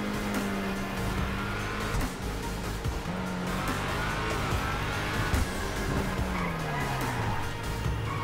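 A car skidding and drifting in the video game GTA V, a loud continuous engine roar with tire squeal and shifting revs running throughout, close and dense.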